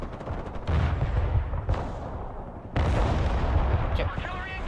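Artillery fire in the video game Broken Arrow, heavy booming impacts and a continuous rumble of battle, with two louder surges of blasts close by and some game chatter underneath.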